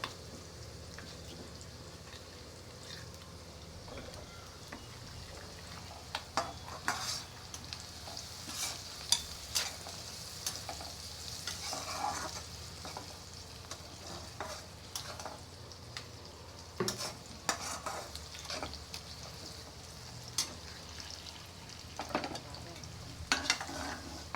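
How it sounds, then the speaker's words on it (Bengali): Onions frying in a pan for beef biryani, a low steady sizzle at moderate distance punctuated by repeated stirring scrapes and light clinks of a spoon against the pot. "ওদিক দিয়ে পেঁয়াজটা ভাজা হচ্ছে, পেঁয়াজটা লাল হলে মশলাটা দিয়ে দিব।"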